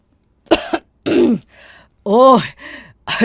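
A few throat-clearing coughs and grunts come close up in short bursts, separated by brief pauses, alone without any talk.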